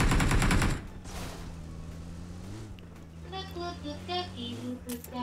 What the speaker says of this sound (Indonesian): Nembak gue, guys.